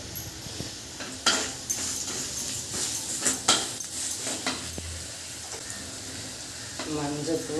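Onion and garlic sautéing in a pan for a fish dish, a steady close sizzle with scattered scrapes and stirring clatter of a utensil, fairly loud and continuous throughout.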